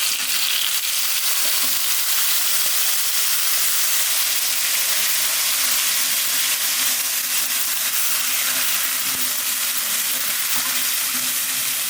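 Onion paste fries in an oily pan with cumin seeds, giving a loud, steady sizzle and hiss with faint popping that runs unbroken throughout, and no voices.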